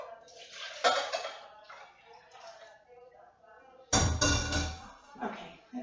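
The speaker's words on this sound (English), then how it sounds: "maybe if I pour this into the measuring cup, I'll be able to pour it more easily" Pickling liquid for Middle Eastern pickled turnips is poured into a measuring cup in a kitchen, two bursts of splashing liquid with quieter trickling between them.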